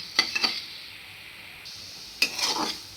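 Spices stirred and dry-roasted in a pan over a low flame, with two short bursts of scraping and light clinking against the metal surface and a soft steady sizzle between them.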